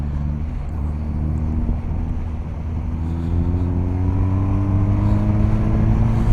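A BMW R1250 GS motorcycle riding on gravel, a loud steady engine drone that rises in pitch as it accelerates, mixed with wind rush and a rough crunching undertone.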